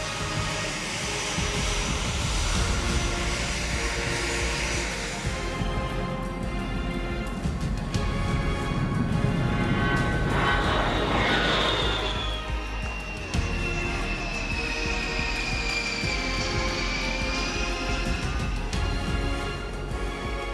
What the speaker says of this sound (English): fire up the twin turbofan engines for takeoff